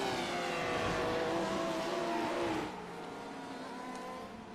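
A race car engine in a sim race at Road Atlanta drones loudly and steadily at high revs, its pitch shifting slightly before dropping in level as the car moves on, with no talk over it.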